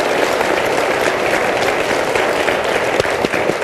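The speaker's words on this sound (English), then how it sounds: "let's give our candidates a round of applause for being here" A large audience applauds the candidates at an Illinois Senate Democratic primary debate, a loud, dense wash of continuous clapping that fills the hall without letup.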